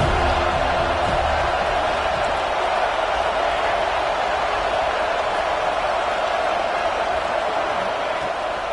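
Stadium crowd in an NCAA college football video game, a broad, steady roar of many voices cheering at a constant level throughout, without distinct words.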